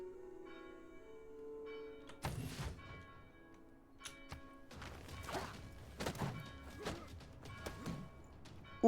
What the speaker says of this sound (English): Don't mind the church bells, by the way.